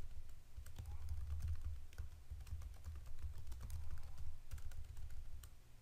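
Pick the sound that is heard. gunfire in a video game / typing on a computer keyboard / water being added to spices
typing on a computer keyboard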